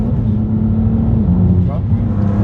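A 2018 BMW M2 Competition accelerates, its engine a steady low droning hum from inside the car, with people talking over it throughout.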